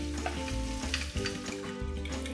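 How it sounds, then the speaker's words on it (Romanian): Bacon and sausages fry in hot olive oil, a close, continuous sizzle with crackles and soft pops, steady and alone with no voices. "am încins aici uleiul de măsline, voi pune în el baconul și cârnații și voi lăsa să se rumenească timp de 10 minute"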